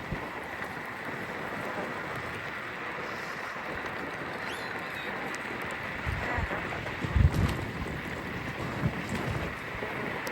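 Wind blows outdoors on a cloudy, windy day in Windsor, a steady broadband rush across the microphone with a louder gust buffet partway through, and no voices.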